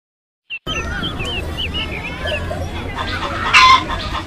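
Hen clucking, a run of short repeated clucks and calls, close and clear over light background noise, briefly joined near the end by a louder, brighter sound.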